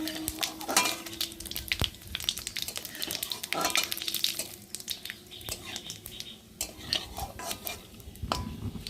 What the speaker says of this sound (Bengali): জিরেটা একটু ভালো করে ভেজে নেব